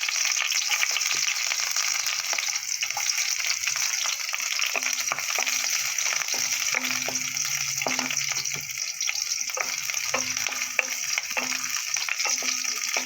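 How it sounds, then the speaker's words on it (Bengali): Onion and green chillies frying in hot oil in a wok, a dense, steady hiss and crackle with occasional stirring knocks, heard close and alone. "পেঁয়াজ আর লঙ্কাটা দিয়ে দিলাম।"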